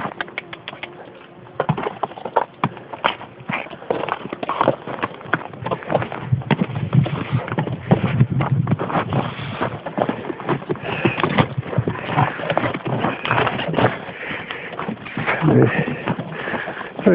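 Horse hooves clip-clop down a steep, rocky mountain trail on Mt Howitt's Staircase descent, with irregular steps heard throughout against rustling, wind and movement noise.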